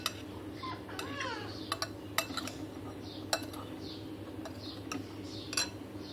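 A spoon tossing and mixing spices through sliced potatoes for aloo pakora, with scattered light clinks and scraping against a bowl over a steady low background hum.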